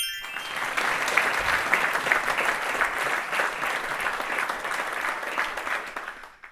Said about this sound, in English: you can receive a big round of applause